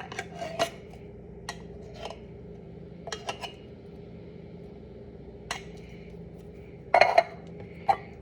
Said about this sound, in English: And then I just use a scoop to scrape out the inside if there's a lot left over inside.